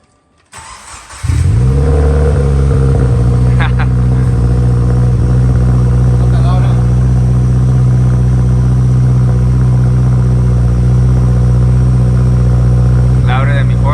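Subaru WRX fitted with a Tomei exhaust cold-starts after a brief crank, then settles into a loud, deep, steady high idle that continues throughout, with a few faint voices over it.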